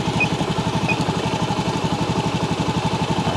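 A fuel-injected motorcycle with a stuttering, hesitating fault idles in a repair shop, its engine thumping in an even, rapid rhythm, close and steady with no talking.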